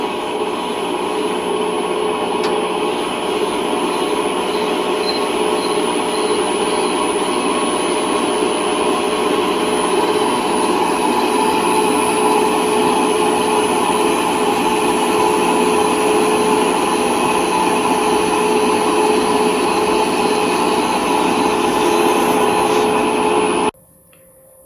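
A milling machine runs a 7/8 reamer held in a Morse Taper 1 adapter through a drilled hole during steering repairs on a 1968 Wheel Horse Raider 9, a steady loud mechanical whine with a high tone, continuous for about 24 seconds and then stopping.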